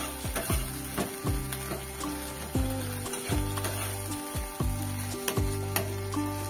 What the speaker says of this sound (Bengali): যেহেতু এটা টমেটো তাই খুব ভালো করে কিন্তু কষাতে হবে